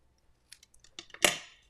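Scissors trim card-making paper in a few quick, light snips building to one sharper final cut, close and quiet with no talking.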